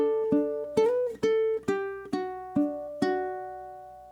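A ukulele plucks the tenth bar of a song, seven clear picked notes ringing out one after another at a steady moderate pace, close and alone with no talking.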